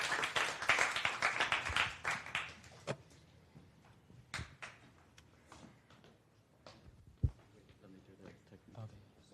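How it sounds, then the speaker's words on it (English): Audience applause for a team presenting a physical product demo on stage: a burst of clapping at the start that quickly thins to scattered claps and knocks, with people talking over the fading noise. "Give a big round of applause to Lumelaud."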